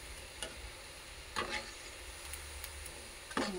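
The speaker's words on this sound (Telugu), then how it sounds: "స్టవ్ సిమ్లో పెట్టుకొని కాల్చుకుందాం." Gulab jamun dough balls fry gently in oil on a low flame, a quiet continuous sizzle punctuated by a few sharp crackles and pops spaced seconds apart.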